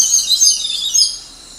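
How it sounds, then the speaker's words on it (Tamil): A flock of small sparrows chirps in a dense, high, continuous twitter overhead near a shallot garden, loud and bright with no voices. "குட்டி குட்டி குருவிகள் கூட்டமாக வந்து சத்தம் போட்டுக்கிட்டே இருக்குது"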